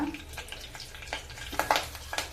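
Dry red chillies and curry leaves fry in hot oil, with soft sizzling and scattered crackling pops close by over about two seconds.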